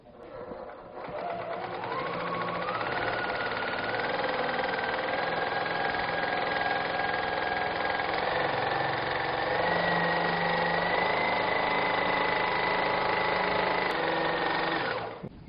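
A sewing machine on a Q-Zone hoop frame stitches free-motion quilting in a steady, continuous mechanical whir with a hum that shifts pitch slightly as it runs, close and loud with no talking.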